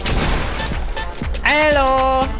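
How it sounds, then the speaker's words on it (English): Gunfire rattles in a Fortnite match as a series of sharp in-game shots, with a player's voice talking over the action. "There was guys shooting."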